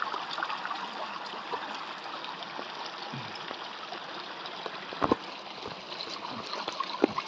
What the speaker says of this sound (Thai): น้ำห้วยพี่น้องเอ้ยไหลตกมา